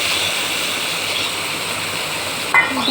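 Fried prawns and potatoes drop into a sizzling spice paste in a pan, a steady close frying hiss giving way to a brief louder splash and crackle near the end.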